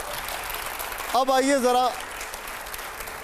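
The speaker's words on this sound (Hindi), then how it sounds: "चलिए अब तालियों की आवाज थोड़ी कम आ रही है हमें।" Faint, hissy applause from a TV studio audience runs throughout at low volume, and a presenter's brief spoken phrase cuts across it midway.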